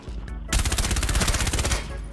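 Rapid automatic gunfire in Rainbow Six: Siege, a loud sustained burst of closely spaced shots after a brief quiet start, with no talk over it.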